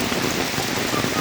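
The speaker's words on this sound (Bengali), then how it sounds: "এই যে প্রায় আধা ঘন্টা এই বৃষ্টি হচ্ছে, এবং এই বৃষ্টির তীব্রতা" Heavy monsoon rain pours steadily during the Ashar season in Jashore, a dense, continuous hiss of drops drumming on surfaces and waterlogged ground, loud and unbroken throughout.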